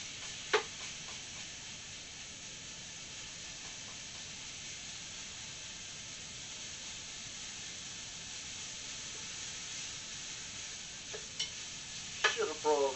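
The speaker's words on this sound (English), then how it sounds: "This is just a browning process. Break up the mince." Minced meat browns in a large pan for a homemade Bolognese, giving a steady, even sizzle throughout with a few brief scraping knocks from a utensil breaking it up, the clatter clustering near the end.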